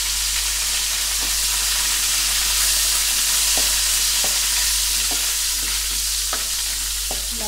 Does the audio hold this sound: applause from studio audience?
no